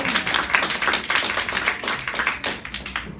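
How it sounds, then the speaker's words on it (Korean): A church high-school youth group claps for a returning teacher, many hands beating in a lively, uneven patter with sharp individual claps standing out, close and continuous. "또 큰 박수로."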